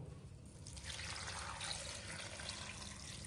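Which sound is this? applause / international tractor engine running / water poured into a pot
water poured into a pot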